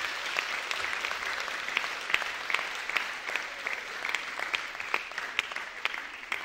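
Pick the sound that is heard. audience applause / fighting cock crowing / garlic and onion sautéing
audience applause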